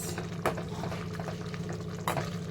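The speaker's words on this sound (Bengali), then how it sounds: "চাটনিটা এখানে ফুটছে" Tomato and raisin chutney bubbles in a pot, a close, steady simmering burble with a couple of brief louder clinks, no voices.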